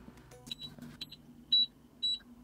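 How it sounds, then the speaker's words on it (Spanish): Short high electronic beeps from a cordless automatic hair curler's timer sound at regular one-second intervals, with faint rustling and handling noises underneath. "ese pitido que se oye cada vez que pasa un segundo"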